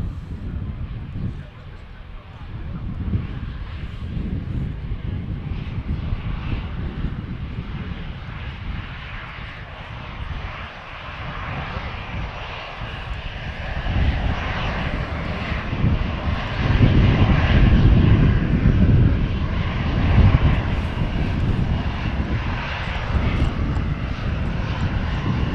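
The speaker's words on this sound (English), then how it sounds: "An older aircraft, that." An older aircraft at Manchester Airport roars loudly as it passes, its engine noise swelling and peaking midway before holding steady, with wind buffeting the microphone and voices talking faintly underneath.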